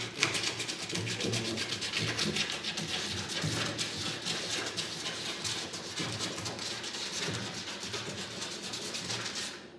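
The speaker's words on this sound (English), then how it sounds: "Just gonna take this old sandpaper I had here and just gonna go around on each one of them." Continuous rough rubbing of old sandpaper worked by hand over the hull of a 14-foot jon boat, steady and close with no pauses.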